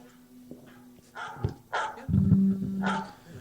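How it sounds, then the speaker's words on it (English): A phone ringtone plays "Jingle Bells" as barking dogs in a melodic pattern, several short barks followed by a sustained tonal note, moderately loud and close. "Is that the barking jingle bells right there?"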